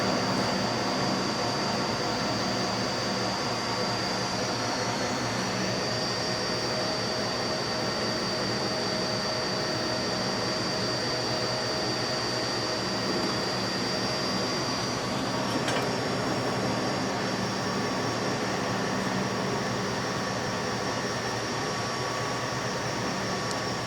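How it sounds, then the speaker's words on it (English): An industrial RAM SCD300 strip cutter and dicer runs beef through a 25 mm grid set, a loud steady mechanical whir and hum with a constant high whine and no talk. "here on our RAM SCD300, we're going to run beef through a 25 millimeter grid set"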